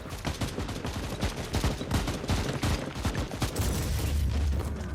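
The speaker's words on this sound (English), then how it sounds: "I'm gonna switch back to the holy shotgun." Holy shotgun blasts in the video game Warhammer 40k: Inquisitor - Martyr, a dense run of loud booming shots and explosions firing in quick succession, filling the whole stretch with no speech.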